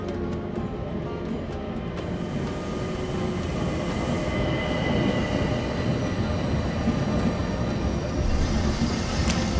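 A train rolls steadily on rails in the Murder on the Orient Express video game, giving a continuous loud rumble with wheel squeal and rhythmic clatter, heard alone with no talking.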